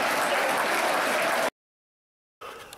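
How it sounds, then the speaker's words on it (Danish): Stadium crowd applauding a player at the final whistle of a football match, steady dense clapping for about a second and a half, then a gap of silence, then the applause picks up again. "spilleren får sin velfortjente applaus fra publikum etter kampslutt"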